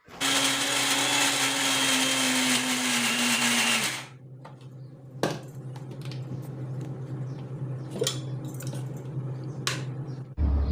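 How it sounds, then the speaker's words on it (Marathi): A loud mixer grinder blending gram flour batter whirs steadily for about four seconds, then cuts off, leaving quieter clicks, taps and a low hum before a brief burst at the end. "हे मी मिक्सरला ग्राइंड करून घेणार आहे म्हणजे फिरवून घेणार आहे"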